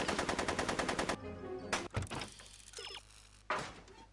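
Rapid bursts of gunfire from a Back to the Future video game ring out loud and close, a fast machine-gun stream followed by a few separate shots and mechanical clunks.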